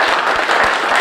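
An audience at a motivational talk breaks into loud, dense applause, many hands clapping steadily and close throughout with no gaps.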